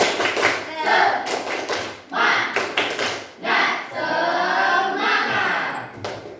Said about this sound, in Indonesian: Bisa kita kasih tepuk semangat untuk kita semua.